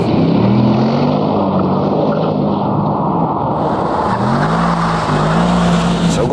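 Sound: Mercedes-AMG V8 engine sound

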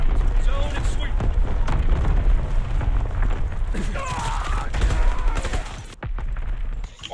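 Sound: artillery and mortar fire in a video game

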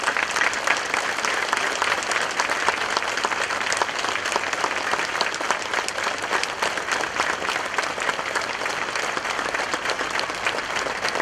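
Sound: applause by pilgrims at a church mass

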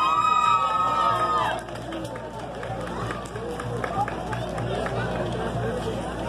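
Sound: audience applause and cheering at an award ceremony

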